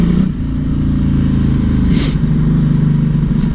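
A motorcycle engine drones loud and steady during a ride, a continuous low throbbing with wind rush and a couple of brief sharp clicks over it.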